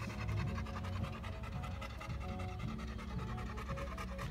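A dog pants rapidly and steadily close by, a continuous rhythmic huffing with no speech over it, during a police check.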